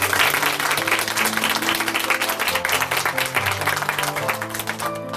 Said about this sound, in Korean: 응원의 박수 보내드릴게요